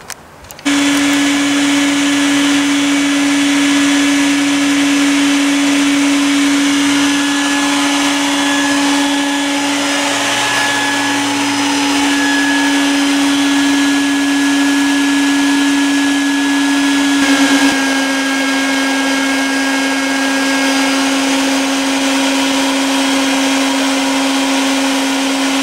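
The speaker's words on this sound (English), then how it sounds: "we're going to go ahead and vacuum them" A loud vacuum motor whines steadily and close throughout, its pitch shifting slightly as it sucks up a swarm of bees.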